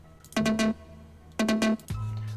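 Electronic synth bass notes play in short repeated bursts, two buzzy stabs followed by a longer held low tone, with no speech.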